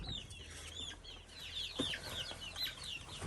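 Hens cluck softly and intermittently inside a warm farm coop, with chirps from young chicks scattered throughout, fairly close and quiet.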